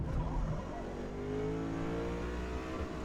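A C8 Corvette in Forza Motorsport at Le Mans, its engine note rising steadily as the car accelerates back up to speed after a slow chicane, loud and continuous and heard alone.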